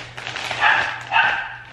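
A dog barks indoors in two loud, close bursts with a little whimpering noise, while a steady low hum runs underneath.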